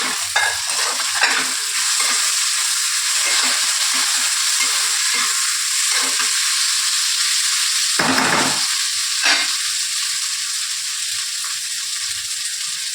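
Tomatoes fry with browned onions in a hot pan, making a steady, close sizzle with irregular stirring scrapes and one brief drop in the hiss partway through.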